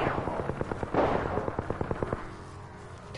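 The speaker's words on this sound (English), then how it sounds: "The enemies are shooting at me." Rapid gunfire in the video game Apex Legends crackles in a fast burst of shots, with a heavier blast partway through, dense and close, then tapers into a quieter tail.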